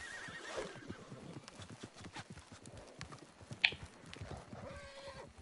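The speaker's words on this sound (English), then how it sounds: "There's a wild guy. Horse here, that's so cool." A horse in a video game whinnies and snorts amid steady hoof clip-clops, with a brief sharp high tone partway through, all at a moderate distance.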